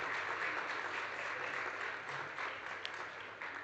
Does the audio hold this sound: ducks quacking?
no